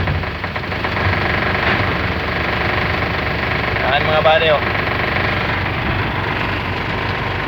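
A 2012 FAW 24-valve truck engine, twelve years old, runs with a continuous rough rumble while someone talks over it.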